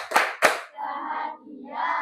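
In a classroom, a group claps twice in quick, sharp unison, then launches into a short spoken chant together, voices close and lively.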